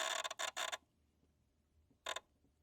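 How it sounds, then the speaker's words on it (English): A Honda Civic's fuse box gives off short bursts of dry creaking as someone tries to start the car, three quick rasps close together, a pause, then one more, quiet and close. "you hear kind of that creaking noise is the best way to describe it in the fuse box when you're trying to start it"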